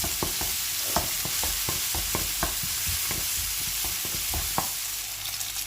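Finely chopped ingredients are stirred in a pan over heat, with rapid repeated scraping and tapping strokes against a soft continuous sizzle, close and steady, no voices.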